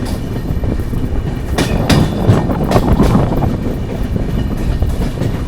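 Capital Express passenger train, Train No 13248 on the Rajendra Nagar–Kamakhya route, rumbling steadily along the rails with a continuous close roar and rhythmic clickety-clack of wagon wheels, no voices.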